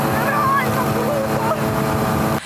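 A paramotor engine runs with a loud, steady droning hum and shifting pitch at an open flying field, continuing throughout until it cuts off abruptly near the end.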